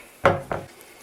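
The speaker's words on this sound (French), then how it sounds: "et vous coupez toutes les bananes" A knife slicing bananas into thumb-width pieces on parchment paper over a worktop, two close, quick cuts about a quarter second apart, each a soft thud with a brief rustle.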